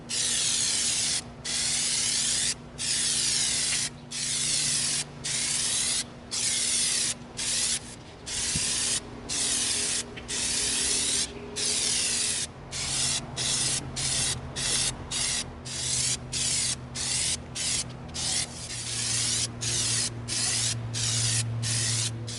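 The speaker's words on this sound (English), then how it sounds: "We're going to begin spraying our Lego Clone Blaster." Rhythmic bursts of aerosol spray paint hiss loudly and close, in repeated short passes with brief pauses, coating an EVA foam Lego Clone Blaster prop.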